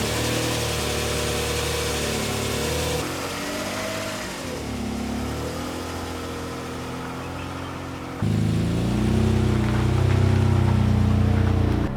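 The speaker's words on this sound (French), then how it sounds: "j'en ai marre de ce moteur qui tourne" A Peugeot 605 V6 engine idling loudly and unevenly as it runs roughly, its pitch wavering and dipping before surging louder near the end.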